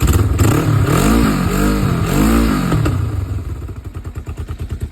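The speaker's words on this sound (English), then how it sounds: "That backfire was because of the giant hole back in there, which is from rubbing against the brake." A motorcycle engine with a holed exhaust rubbed through by the brake, running close and loud with pulsing revs and clattering pops, then settling into a rhythmic, throbbing idle.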